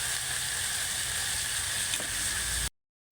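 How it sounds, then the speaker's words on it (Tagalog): Shrimp paste sautéing in a pan with garlic, ginger and onion, a steady close hissing sizzle with faint stirring, cutting off abruptly at the end. "Gigisa natin itong bagoong"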